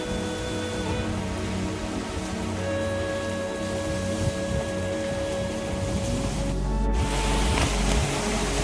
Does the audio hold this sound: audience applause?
no